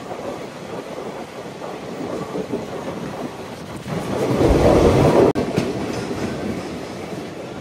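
A train runs along the rails on the Araku railway line, a steady rumbling roll that swells louder near the middle, then drops off abruptly before settling back to a constant hum with wind noise.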